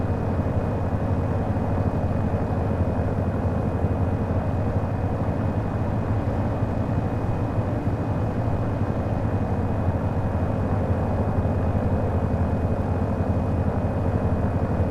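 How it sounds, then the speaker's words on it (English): A DA42 twin-engine airplane taxis on the ground toward the end of a runway, its engines giving a steady, loud drone with low rumble throughout and no talk. "We are going to continue taxiing to the end so we can use the entire runway."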